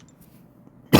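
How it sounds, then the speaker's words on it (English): One abrupt, close cough from a sick person bursts out right at the end after near silence. "Sorry for the coughing."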